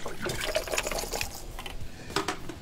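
Orange juice is poured into a large five-gallon batch cocktail, making a quiet, continuous liquid splashing and trickling sound close by.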